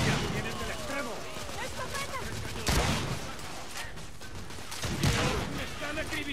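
Dense gunfire from The Order: 1886 fills a hall-like game space, with rapid shots and shotgun-like blasts bursting over a continuous battle din while voices shout throughout.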